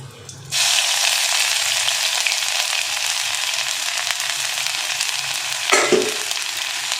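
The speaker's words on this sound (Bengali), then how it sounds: "এখানে দুটো তেজপাতা দিয়ে দিচ্ছি আর এই তেলের মধ্যেই আদাটা আমি দিয়ে দেবো" Bay leaves and ginger dropped into hot oil for a dal tempering burst into a loud, sudden sizzle that holds steady and close, with a brief clatter near the end.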